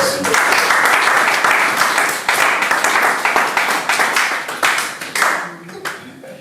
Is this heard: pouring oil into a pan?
no